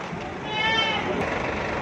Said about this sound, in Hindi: और ये बकरा ये दे देंगे उसको।